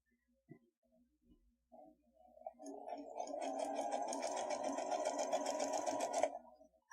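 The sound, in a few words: sewing machine stitching fabric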